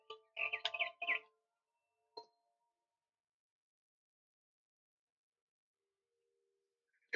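A short burst of bright video-game bird chirps, then a single chirp, followed by long silence and a faint tone near the end.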